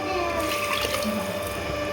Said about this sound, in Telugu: చూడండి, వాటర్ పోసుకున్నాం మనం.